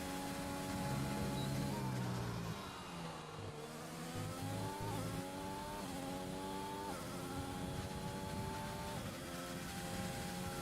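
An F1 car laps the Austria circuit in a racing game, the engine whining steadily and climbing through gears in repeated upshifts along a straight, with a brief dip as it slows, loud and continuous.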